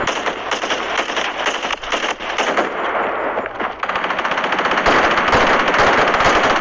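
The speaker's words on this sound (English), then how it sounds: "Taking fire." Loud rapid bursts of machine gun fire in a video game, long sustained volleys of close automatic shots with brief pauses between them.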